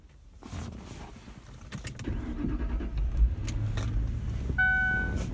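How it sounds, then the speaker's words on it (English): A car engine cranks and catches, settling into a low steady idle, followed by a few high electronic chime tones from the dashboard. "It powers on, and let's start the car."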